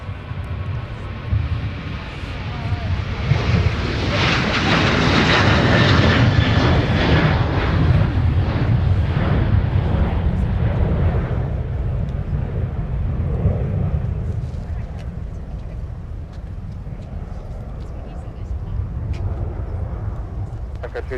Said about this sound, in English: Delta 165 coming in from Amsterdam with the A330-900